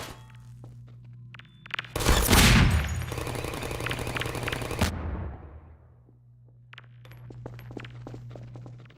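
A Half-Life 2 turret fires a sustained loud burst lasting about three seconds, then cuts off, leaving a low hum and scattered faint clanks.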